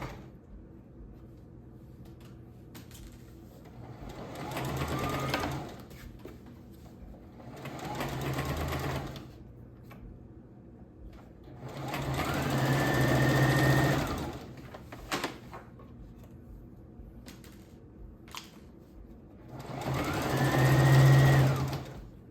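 A sewing machine stitches a maxi skirt with a high split in four separate runs of whirring motor hum, each a few seconds long, with quiet pauses between and faint clicks, close and with no talking.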